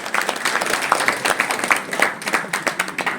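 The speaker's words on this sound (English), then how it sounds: "Louder, big round of applause, yaar." An audience claps at a women's handball league launch event in India, fairly loud and close, with many individual claps beating in an uneven, lively rhythm throughout.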